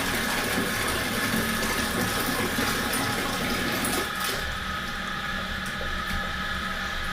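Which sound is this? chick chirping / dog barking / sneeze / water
water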